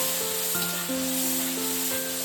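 Chickpeas with cumin, ginger and green chilli frying in a pan give a soft, continuous sizzle, fairly quiet, with a few faint tonal hums running underneath.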